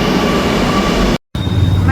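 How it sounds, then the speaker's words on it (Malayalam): Metro train at Vadakkekotta station, a steady, loud broadband rumble and rush close by, broken by one brief dropout of near silence before the roar resumes. "നമ്മുടെ മെട്രോ ഇപ്പൊ വരും ഗായ്സ്."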